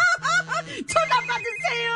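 A human voice imitates a telephone ringtone with a sung, repeating electronic-style melody over a steady low tone, loud and close.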